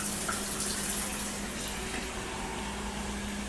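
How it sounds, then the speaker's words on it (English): Water from a reverse osmosis K5 filter runs steadily into a cup, a continuous close hiss and splash at even loudness throughout, with no talk. "This is the water that we are using to fill"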